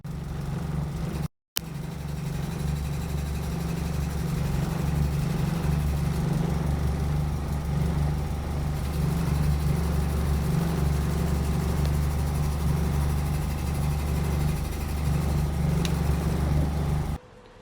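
Steady droning run of a Volkswagen Golf Mk1 with a swapped 2.0-litre 8-valve engine, captured on a phone, a constant loud idle-like hum throughout with one brief dropout near the start, no voices.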